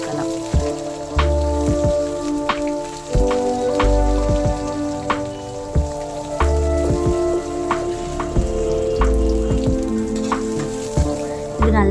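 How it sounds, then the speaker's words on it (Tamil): Shallots, bay leaf, curry leaves, coriander and green chillies fry in hot oil in a pan, giving a loud, close, continuous crackling sizzle dotted with sharp pops and stirring scrapes. "சின்ன வெங்காயம் பிரிஞ்சி இலை கருவேப்பிலை கொத்தமல்லி பச்சை மிளகா இது எல்லாமே சேர்த்து இது நல்லா கலர் கொஞ்சம் சேஞ்ச் ஆகிற அளவுக்கு நல்லா வதக்கிடுவோம்"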